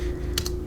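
Brief, close keystrokes on a computer keyboard, two quick taps over a steady low hum while entering student names into an online classroom account.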